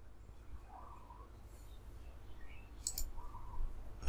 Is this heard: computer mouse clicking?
yes